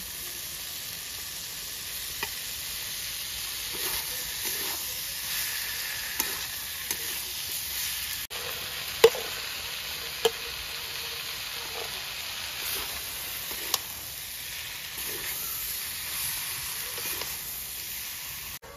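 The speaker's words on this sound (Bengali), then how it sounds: "এবার আমি সব সবজিগুলো দিয়ে দিচ্ছি, একসাথে কষিয়ে নেব" Mixed vegetables with coconut sautéing together in a pan for pav bhaji; continuous close sizzle under scattered stirring clicks and spoon taps throughout.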